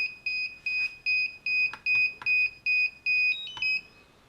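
DJI Phantom 4 remote controller beeping during a battery repair: a regular series of about nine short, clear electronic beeps in steady rhythm, close by, with faint clicks and no talking.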